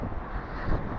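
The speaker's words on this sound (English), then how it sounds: "It's so windy that a lot of sticks were coming down right next to me." A short burst of loud, rushing winter wind in a forest buffets the microphone, a rough low roar with no other sounds.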